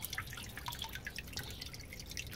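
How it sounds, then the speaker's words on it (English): Water drips and trickles continuously in a small outdoor container pond run by a solar-powered pump, a dense patter of small splashes at close range with no voices. "it basically just keeps that water circulating out the bottom, up the top, creates some water movement"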